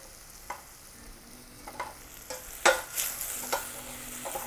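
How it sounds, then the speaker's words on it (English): Vegetables seasoned with salt and black pepper sautéing in a pan, a quiet steady sizzle broken by several sharp spatula scrapes and clacks at irregular intervals. "keep sauteing for about another 6 to 7 minutes"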